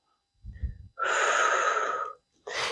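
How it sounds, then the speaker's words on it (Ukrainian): During a moderate deep-muscle workout, a person takes a short breath in and then pushes out a long, forceful, close exhale. "Вдих і видих. Живіт зажатий."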